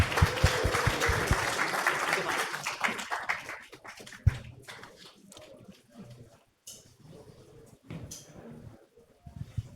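An audience at a generative-AI startup demo night claps for the presenters, a dense burst of applause that thins out after a few seconds into scattered claps and quieter room sounds.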